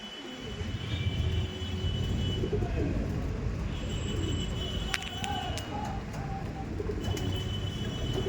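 Madras pigeons coo in a low, continuous murmur, close and steady, under a voice talking over them.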